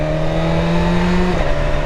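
A motorcycle on its original stock exhaust idles and revs loudly and continuously, the engine tone holding steady then shifting pitch near the end, with no talking.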